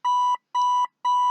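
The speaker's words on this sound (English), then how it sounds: "Yeah, that's what the, alarm sounds like." A Dream Machine clock radio alarm sounds three steady, loud electronic beeps of equal length with short gaps between them, close and alone.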